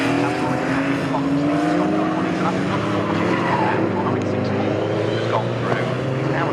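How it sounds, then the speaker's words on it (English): Race cars lapping the Snetterton circuit during a classic series race, among them a Mazda MX-5 and a Porsche 924, give a continuous loud engine drone with shifting pitch and tyre noise, while commentary runs over the top. "the number 33 Stephen Robertson driven Mazda MX-5 hot on the heels of Christian Cox 924"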